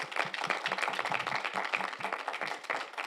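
A church congregation applauds during a Sunday morning worship service, a steady wash of many hands clapping close and loud throughout, with no voices standing out.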